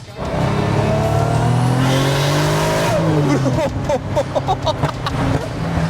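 A 500 hp Toyota Cresta engine roars loud and close, its pitch climbing steadily through a long pull, then breaking into a series of rapid rev bursts and drops.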